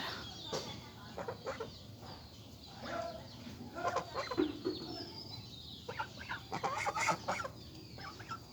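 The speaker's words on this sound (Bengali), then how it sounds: "এই দুইটা বয়স্ক হাঁস আমার" Two adult ducks call close by in scattered quacks and clucky bursts, irregular and moderately loud over a soft outdoor background.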